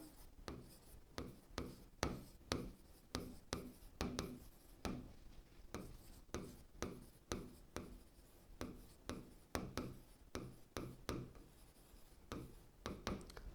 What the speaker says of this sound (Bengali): তাহলে লিখি